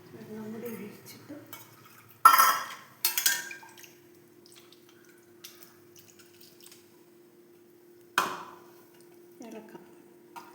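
A spoon stirs erissery, a curry of tapioca and yam, with added water in a pot. A few distinct scraping and clattering strokes are separated by quiet gaps, with low background sounds in between.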